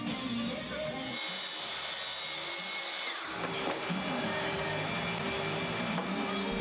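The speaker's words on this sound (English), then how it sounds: "I can try and rip these edges off on the track saw" A track saw rips the excess edges off a glued-up wood panel, a steady high motor whine with cutting noise through most of the stretch, fairly quiet and without talk.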